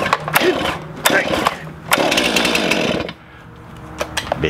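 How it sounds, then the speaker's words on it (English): Stihl MS-261C chainsaw with M-tronic, pulled to start; several loud rasping bursts from close by, rising and falling in a choppy rhythm, then dropping to a quieter idle-like tail. "It's the Stihl MS-261C, so it's got the M-tronic in it. It's kind of a smart chainsaw, you know?"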